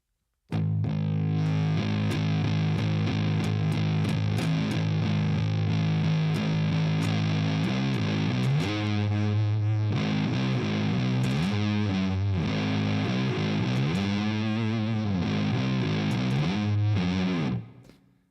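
A heavily distorted electric guitar in a low tuning chugs through a sustained riff for about seventeen seconds, loud and up close with thick effects and no voices.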